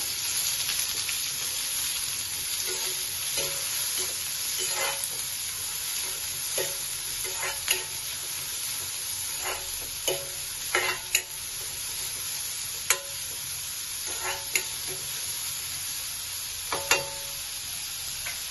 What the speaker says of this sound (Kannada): ಚೆನ್ನಾಗಿ ಫ್ರೈ ಮಾಡಬೇಕಾಗುತ್ತೆ.